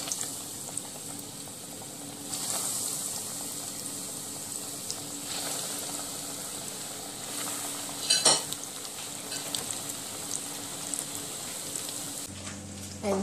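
Cotton bread potato bites fry in a pot of oil with a steady bubbling sizzle, broken by occasional sharp clinks and scrapes of a utensil nearby.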